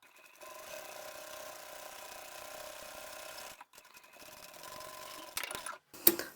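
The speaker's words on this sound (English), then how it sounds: "I'll run another row of top stitching beside that row we've just done" A sewing machine top-stitches a row along a backpack pocket, running in a steady fast whir for about three seconds, pausing briefly, then resuming in shorter bursts with a sharp click at the end.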